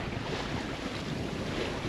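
Sailboat making 5.8 to 5.9 knots on an ocean passage toward Nuku Hiva, with a steady rush of wind and waves against the hull and buffeting wind noise on the microphone, no voices.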